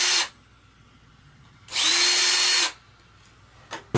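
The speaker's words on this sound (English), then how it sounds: "These holes were just little, they're fairly small, little 3/32 drill." A power drill with a small 3/32 bit bores holes during taxidermy assembly of a war bird Indian face piece, two loud close whirring bursts with a quiet pause between and a brief blip at the end.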